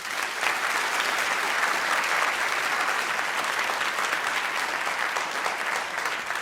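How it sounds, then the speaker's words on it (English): An audience at a debate on a path to citizenship for undocumented immigrants bursts into sustained, dense applause, many hands clapping evenly and loudly throughout with no pause. "if you can give one more round of applause, we'll start"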